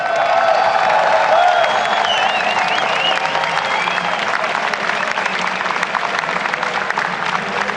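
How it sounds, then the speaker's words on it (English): Loud, sustained applause and cheering from a large esports audience at a League of Legends championship final, a dense steady wash of clapping that holds throughout. "A well-deserved applause here for you guys."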